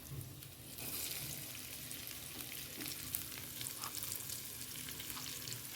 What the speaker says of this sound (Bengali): এইখানটায় পেঁয়াজ কুচিয়ে রেখেছি কিছুটা শাকের দেওয়ার জন্য, এবার এইখানেও কিছু দিয়ে দেবো